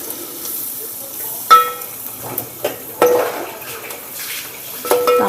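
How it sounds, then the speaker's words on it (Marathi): Onions frying with turmeric in a pan for chicken sukka, a low sizzle broken by several sharp utensil scrapes and clinks against the pan, with short tonal beeps mixed in. "तोपर्यंत आपण ह्याच्यामध्ये हळद टाकून देऊया, म्हणजे की आपले कांदे मस्तपैकी भाजून निघतात"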